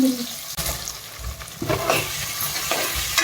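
Big onions, finely chopped, sizzle in hot oil in a pan while being stirred, with scraping strokes and bursts of frying hiss repeating over a few seconds; no talking.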